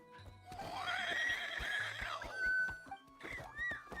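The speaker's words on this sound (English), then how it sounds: "Are they neighing?" A horse in Genshin Impact lets out a long, bright whinny, followed by shorter neighing calls. Light clopping taps sound beneath, with no one talking over it.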